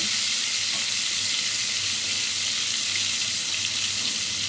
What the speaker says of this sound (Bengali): তেলটা আমার গরম হয়ে গেছে। দুইটা করেই ভাজতে হবে।